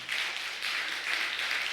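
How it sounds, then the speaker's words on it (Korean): Church congregation applauding during a sermon, a dense wash of many hands clapping, steady and fairly loud with slight pulsing swells across the room. "박수 한번 해줘요."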